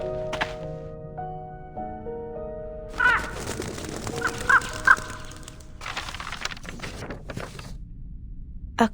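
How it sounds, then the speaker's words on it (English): In the video game Reverse: 1999, a crow caws a few times amid game music and sound effects, with occasional thunks and shifting background tones. "A crow?"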